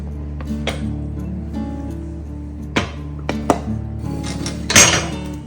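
Brownie bites tipped out of a metal baking pan, heard as a few sharp metallic clinks and clatters spread over several seconds, ending in a louder rattling bump as the bites drop out, with no voices.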